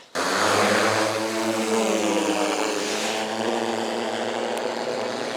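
Steady droning propeller engine of a reconnaissance drone patrolling over a border area, loud and continuous with a low humming tone throughout, no voices.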